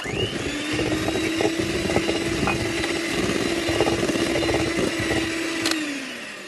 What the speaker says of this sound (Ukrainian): І ще раз все гарно збиваємо міксером до однорідності